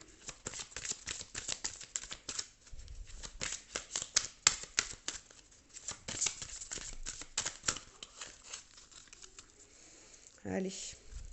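Tarot cards shuffled by hand in short, crisp riffling bursts, close and fairly quiet, with a brief low thump near the end.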